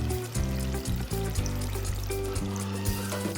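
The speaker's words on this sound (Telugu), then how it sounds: "ఇది వాటర్ యాడ్ చేసుకుందాం." Water poured into a pot of chicken curry, a steady continuous pouring and trickling, close and fairly loud, with no talking.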